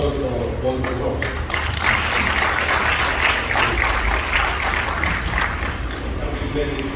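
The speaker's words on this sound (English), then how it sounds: "Let's give a round of applause for our wonderful talk." Audience applause after a talk at the dedication of the Tuskegee Airman General Charles McGee Library in Silver Spring, a steady dense wash of clapping with crowd murmur and speech babble underneath, filling the whole stretch at even loudness.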